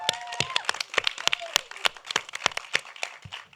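Audience applause for the first panel at an arts event, a spread of sharp, scattered claps that keep going steadily at moderate level, with a few faint voices and whoops mixed in.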